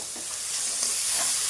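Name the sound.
stirring sugar and salt cooking in a pan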